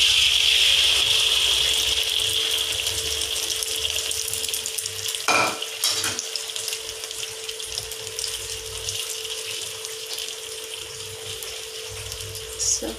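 Vegetable omelette frying in hot oil in a home kitchen, a steady crackling sizzle under a faint hum, with a couple of clattering knocks partway through and a voice briefly talking.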